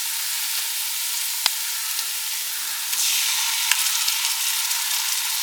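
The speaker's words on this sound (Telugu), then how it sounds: "అల్లం వెల్లుల్లి పేస్ట్ కొంతసేపు వేగిన తర్వాత" Ginger garlic paste sizzles in a pot of oil for a country chicken biryani, giving a loud, steady, close frying hiss with an occasional small pop or clink of stirring. No one speaks.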